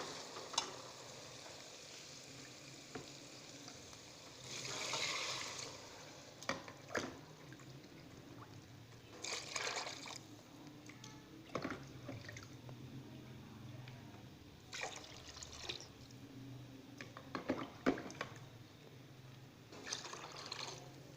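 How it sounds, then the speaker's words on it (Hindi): Water is poured into chickpeas frying in a pan, giving bursts of hissing sizzle and bubbling that swell and fade several times over a quiet, steady frying background, close up. "अब हम इसमें पानी ऐड करेंगे।"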